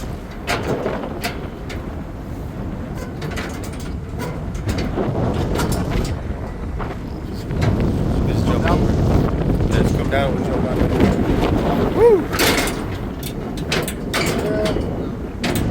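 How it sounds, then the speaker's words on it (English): Strong gusty wind buffets the microphone continuously high up on a structural steel frame under construction, with occasional metallic clanks and knocks from the steel nearby. "As you can tell, it's pretty windy up here."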